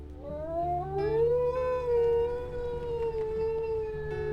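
A single wolf howl from the video game WolfQuest rises in pitch, then holds a long, wavering note over a low background hum.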